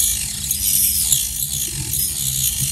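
Small Dremel-style rotary tool grinding into a plastic model piece, a close, rough, rattling buzz that holds steady throughout without any talk.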